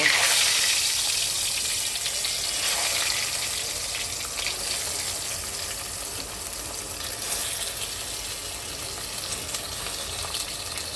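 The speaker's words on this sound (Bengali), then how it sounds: "তো চলো সবগুলো মাছ সুন্দর করে একটু ভেজে নিই" Steady hiss and crackle of featherback (foli) fish frying in hot oil, a continuous broadband sizzle at moderate loudness with no voices.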